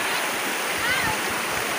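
Spring water flows steadily at its source, a continuous broadband rush close by, with a voice briefly audible over the running water.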